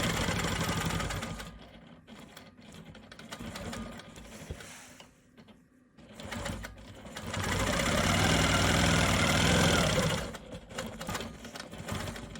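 A sewing machine runs in bursts while perimeter quilting around a maple leaf quilt block, its needle whirring loud and steady with short pauses and a quieter dip near the middle, no talking.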